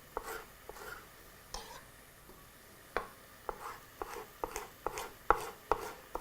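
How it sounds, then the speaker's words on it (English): A sharp knife juliennes a green pepper on a cutting board, giving quiet, crisp chopping taps that start sparse and grow into a steadier, quicker rhythm, close and alone. "with your sharp knife, proceed to julienne your green pepper"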